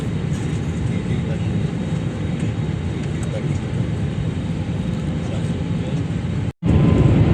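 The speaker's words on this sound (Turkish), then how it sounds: "Evet arkadaşlar uçak kalktı gidiyoruz" A constant, heavy roar of an airplane taking off, heard from inside the cabin, with a low rumble that persists throughout and a short dropout near the end.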